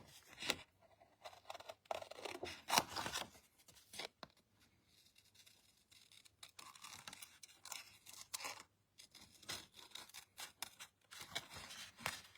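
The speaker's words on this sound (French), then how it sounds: "ça se découpe très très bien également au ciseau, on va la découper très rapidement" Scissors cutting through the material of a tea bag dispenser, close and crisp, with repeated snipping and crunching strokes in uneven bursts and short pauses between cuts.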